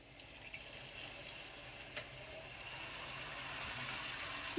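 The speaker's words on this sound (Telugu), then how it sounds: "వాటర్ అయితే నేను జగ్గులో వేడి చేసుకున్నానని వేసేస్తున్నాను" Hot water poured from a jug into a cooking pot of fried-piece chicken biryani, a faint steady splashing trickle that grows slightly louder toward the end.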